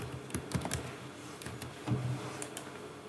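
Scattered keystrokes on a computer keyboard as dummy data is entered, a few soft clicks spaced unevenly over a steady background hiss.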